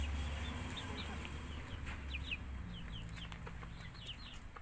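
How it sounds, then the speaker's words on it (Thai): A small Cochin chicken, kept among young hatching stock, gives soft intermittent clucks over a constant low farmyard hum and hiss, with faint higher calls from other birds scattered throughout. "อันนี้ไก่ โคชินนะครับ"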